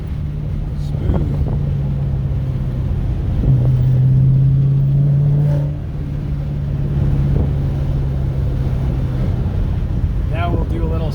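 A Chevrolet Camaro SS 1LE with a fresh coolant change drives along, its engine making a steady low hum that swells slightly midway under road and wind noise, with someone talking over it.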